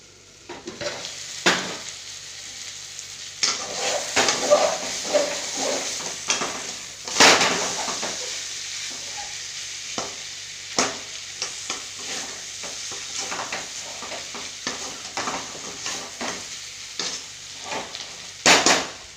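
Sambar cooks in a pot over a low flame with a steady gentle sizzle, broken by repeated scrapes and metallic clinks of a ladle stirring, close and fairly loud.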